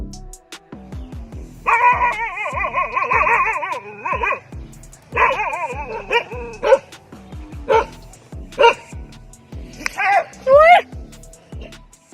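Dogs bark at a monitor lizard in loud, close bursts of yips and sharp barks, broken by short pauses and a few whimpering notes.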